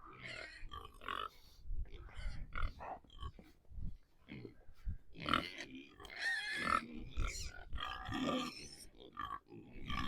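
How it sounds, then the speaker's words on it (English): Pigs on a snowy farm grunt and oink repeatedly in a noisy, muddy pen, irregular bursts of grunts and squeals at close range with no talk over them. "these pigs, even though they're noisy and muddy and gross"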